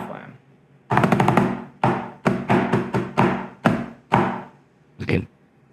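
Sharp drum strokes land in a quick sequence of grace-note hits from a historic British rudimental cadence: a seven-stroke roll, flams and a flamadiddle, with doubled attacks and short pauses between groups, close and dry.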